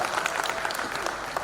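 Audience at a Hindi kavi sammelan poetry gathering claps steadily, a dense, even burst of applause throughout, close and moderately loud with no voices over it.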